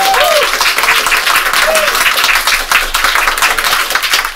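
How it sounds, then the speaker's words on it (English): Loud, dense applause for the contestants on a comedy game episode, a crowd clapping continuously and close, with voices calling out over it. "Round of applause to our contestants."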